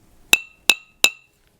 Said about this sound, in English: That is a hefty cork right there.